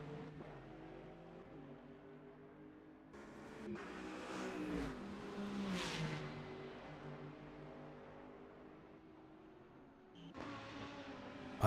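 A BMW race car on a racetrack passes with engine notes that rise and fall through gear changes, growing louder in the middle and fading before another surge near the end.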